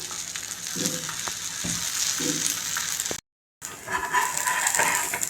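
Oil sizzling around a breakfast dish cooking in a pan, a steady close frying hiss with a few soft low knocks and a brief silent gap partway through.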